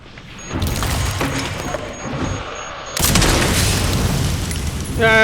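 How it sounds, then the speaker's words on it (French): A grenade goes off in the video game Resident Evil Requiem, a loud booming blast with a rumbling tail, followed by another heavy burst of in-game noise. "On sous-estime souvent le côté pratique d'une grenade."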